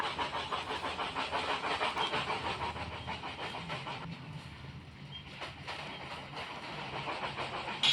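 Train in the Roblox video game running along its track, a steady broadband mechanical rumble with faint rhythmic clatter that eases slightly midway before building again.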